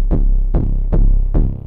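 Distorted 808 bass from a music production session, four heavy booming hits at an even pace, each with a gritty attack that decays into a deep sustained low tone, loud and alone.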